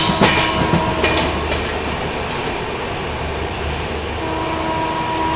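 An express train runs through Nasirabad station without stopping, giving a loud, steady rolling rumble with clattering wheel knocks and a few sharp metallic clacks near the start.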